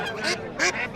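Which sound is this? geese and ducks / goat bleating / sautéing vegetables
geese and ducks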